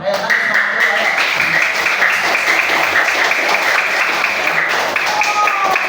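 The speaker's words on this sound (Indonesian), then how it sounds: "Tepuk tangan dulu dong" Schoolchildren at an elementary school clap together in a steady burst of applause, with a voice faintly audible beneath the clapping.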